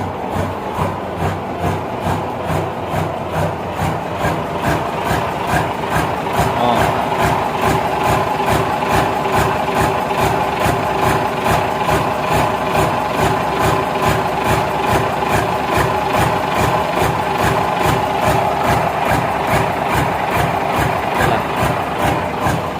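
Boat engine, a former Mitsubishi Fuso truck engine, idling inside the engine room, with a steady, fast, even mechanical knocking rhythm that stays loud and close throughout.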